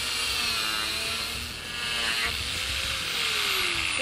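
A grinding machine running steadily, with a loud continuous rough whir and a whining tone that slowly shifts in pitch, with no pauses throughout.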